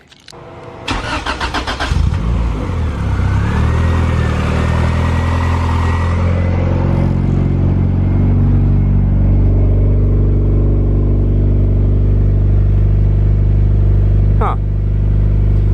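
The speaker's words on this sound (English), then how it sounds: "let's turn this car on and see how the exhaust sounds like" A Honda Civic EG hatchback with a turbocharged B-series engine swap and full exhaust cranks over, fires and settles into a loud, deep, steady idle close by, with a brief knock near the end.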